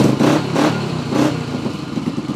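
A Honda 250X motorcycle engine, a little cold, revs up in three quick blips, rising and falling close by with a rough mechanical clatter between bursts.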